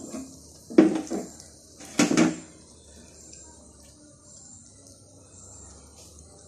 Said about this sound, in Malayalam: നമുക്കൊന്ന് ഇളക്കിയെടുക്കണം